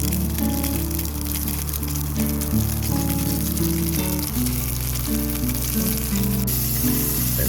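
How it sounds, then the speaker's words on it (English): Butter sizzles loudly and steadily in a hot pan, a dense crackling hiss that stays close and constant throughout. "Heat up a pan, put some butter in it."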